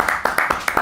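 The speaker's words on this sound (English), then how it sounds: "can I just have a round of applause for everybody who's here?" Brief, sparse handclaps from a small group at an annual general meeting, a few distinct claps in quick rhythm, close and fairly loud.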